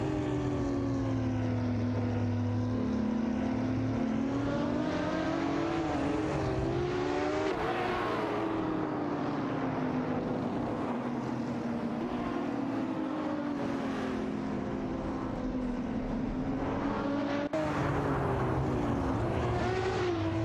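Race cars in a racing video game, among them a Ferrari 599 GTO, give off a continuous engine drone. The pitch rises and falls with gear changes, with brief shifts around eight and eighteen seconds.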